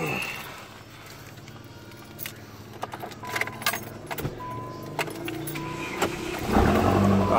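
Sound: Spirit RT94 engine cranking and starting with keys

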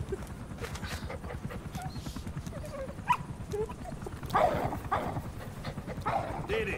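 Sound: Diamond Dog barking in video game Metal Gear Solid 5

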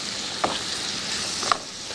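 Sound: apple pieces cooking in a pan for crepe filling

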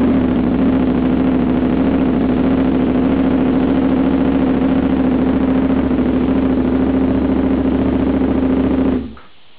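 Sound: KTM 950 EFI motorcycle engine starting and running

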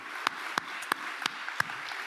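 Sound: audience applause for presenters

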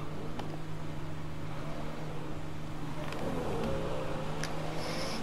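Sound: car accelerating in video game GTA

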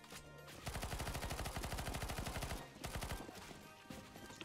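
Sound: gunfire shooting zombies in a video game

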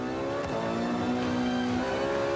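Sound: car engine revving in video game Forza Motorsport 5

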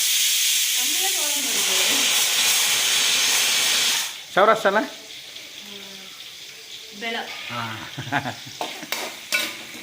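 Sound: onions being sautéed and stirred in a pan for sambar rice

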